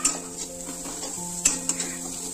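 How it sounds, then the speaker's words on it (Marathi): Egg rice with masala tossed and stirred in a hot pan: close metallic scraping and a couple of sharp clinks over a continuous sizzle, no talking. "हे आता चांगलं मिक्स करून घ्यायचं"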